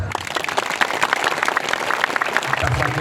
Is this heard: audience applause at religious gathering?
yes